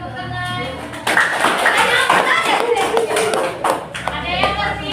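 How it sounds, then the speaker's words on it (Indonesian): Students in a classroom clap their hands together in a sustained burst of applause, loud and close, with children's voices mixed in during a class teaching session. "Ya, semuanya tepuk tangan."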